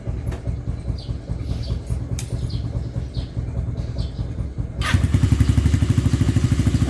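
A motorcycle engine warms up with an uneven idle that sputters at first, then settles into a louder, steady rapid putter close by from about five seconds on; birds chirp faintly in the background.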